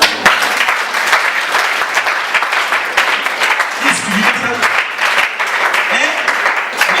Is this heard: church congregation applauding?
yes